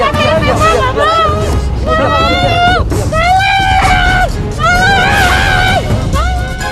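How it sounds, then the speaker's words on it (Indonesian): Crowd shouting and screaming at a street raid at the Sunter Agung intersection in Tanjung Priok, North Jakarta, with rising, strained cries over a constant loud babble of agitated voices. "razia PMKS 24 Maret lalu diwarnai teriakan saat petugas gabungan menertibkan PMKS perempatan Sunter Agung"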